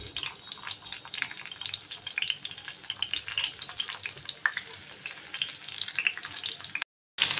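Stuffed bitter gourds frying in oil in a pan, a close, busy crackle and sizzle with scattered spitting pops throughout, cutting out abruptly near the end.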